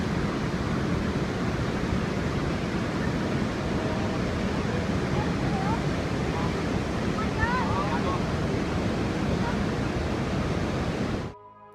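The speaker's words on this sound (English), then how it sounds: "Look at how flash floods come crashing down the cliffs." Flash flood water crashing down cliffs, a loud, continuous roaring rush that holds steady for about eleven seconds before cutting off abruptly.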